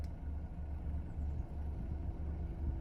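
A car rolls out of a farm driveway, heard from inside as a steady low engine rumble and road drone, constant and moderately loud with no talking.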